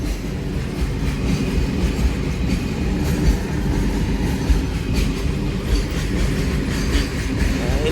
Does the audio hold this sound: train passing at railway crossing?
yes